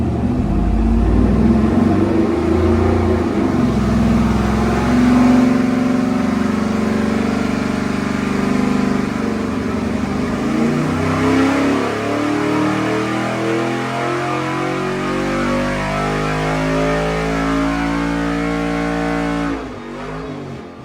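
Carbureted junkyard 5.3L LS engine on a dyno, loud and close, revving through a sustained pull with a rising roar that holds high before cutting off at the end.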